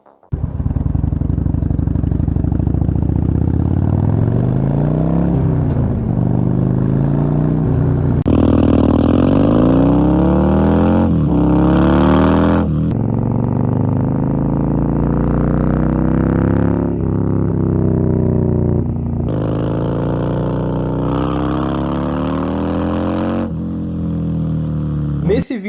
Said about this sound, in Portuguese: A Nuda 900 possui um motor Rotax bicilíndrico em linha modificado para ter o mesmo som dos motores em V Harley-Davidson.